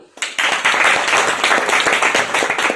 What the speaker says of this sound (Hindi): ताली बजा लो।